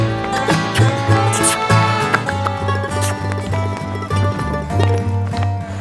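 A horse worked in training during a dressage-style schooling session, hooves clip-clopping in a steady rhythm, close and continuous over several seconds, with music playing throughout and no voices.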